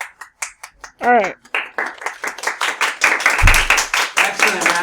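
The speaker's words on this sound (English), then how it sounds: "Excellent round of applause." Classroom audience clapping in scattered bursts, rising to fuller applause mixed with voices and laughter after a brief pause.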